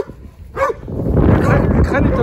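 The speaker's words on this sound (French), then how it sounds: "il y a un clébard là, il y a un clébard là" A dog barks and yelps nearby in Ukraine, a few sharp loud barks mixed with whining, while someone talks over it.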